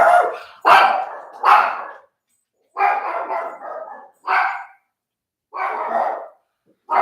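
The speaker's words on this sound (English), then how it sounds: "Hear the dog barking?" A dog barks loudly and close by, in short bursts: a quick run of three barks, then a longer rumbling bark and three more spaced-out barks with pauses of silence between them.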